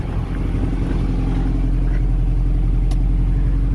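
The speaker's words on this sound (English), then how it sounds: "and it sounds pretty good. It's nice and quiet at idle." A 1989 Dodge Raider with a newly finished exhaust idles, a steady low, even engine burble that stays quiet and constant, with a brief faint click near the end.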